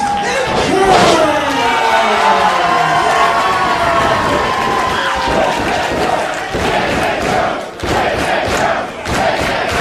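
Beyond Wrestling crowd in Worcester cheering, shouting and reacting loudly and continuously, a dense roar of many voices near and full, with sharp bursts and claps rising through it.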